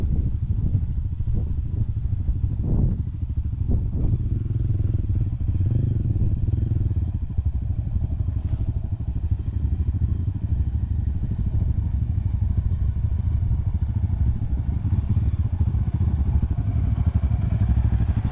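A Mahindra Mojo motorcycle descending a slope near Munnar under engine braking, a steady low engine rumble with clattering and thumps from the rough track, loud and close, with almost no talk.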